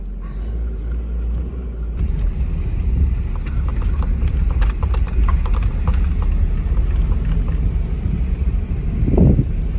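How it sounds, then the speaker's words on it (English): A Nissan KA24 engine with a clutch fan runs loud and steady, a constant low rumble and whirring fan roar close by, with no talk. "I did go clutch fan too, which is why you hear it so loud"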